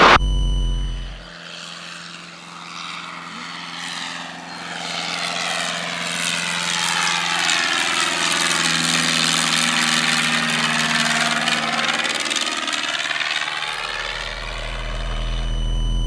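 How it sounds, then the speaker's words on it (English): A Cessna 172 takes off from a driveway airstrip in southern Ohio, its propeller engine roaring up loud and close, then droning steadily as it climbs away. "Taking off on a man's driveway in southern Ohio."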